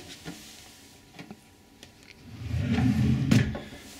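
A hotel room drawer at the Skycity Grand Hotel in Auckland slides open after a few faint clicks, a close, soft rolling scrape that swells over about a second, with no talking.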